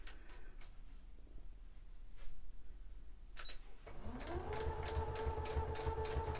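A sewing machine starts stitching fabric after a few quiet clicks and handling sounds, then settles into a steady, close, rapid mechanical whir with fast regular pulsing.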